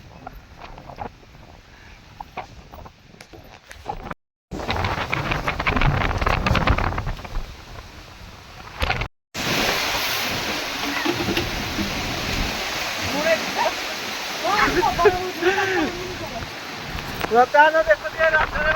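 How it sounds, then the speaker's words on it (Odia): Strong wind and rain storm in a village, with gusting roar and steady broadband rain hiss that rises after brief dropouts, voices talking intermittently over it. "ବର୍ଷା ପବନ ଜୋରସେ ଆଇଲାଣି।"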